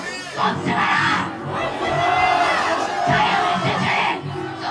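A large crowd at an outdoor political rally at a university shouts a protest slogan in unison, rising in loud rhythmic waves of massed voices with cheering swells.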